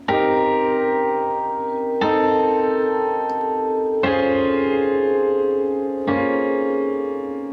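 Four sustained piano chords struck one at a time, each ringing for about two seconds before the next, in a slow, even rhythm.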